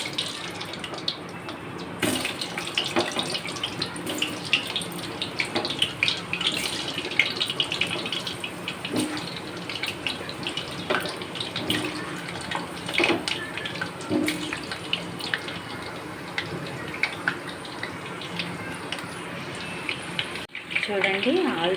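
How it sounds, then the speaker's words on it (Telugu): Potato halves sizzle and crackle steadily in hot oil, a dense, continuous frying hiss that stays fairly loud throughout with brief bursts of popping. "ఆయిల్ వేడెక్కిన తర్వాత ఇప్పుడు మనం దుంపలను వేసుకోవాలి."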